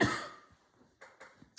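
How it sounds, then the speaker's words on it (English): A single loud cough bursts out close to the microphone at the start and fades, followed by a few short, faint breathy throat sounds. "Hang on a minute, I'm going to cough."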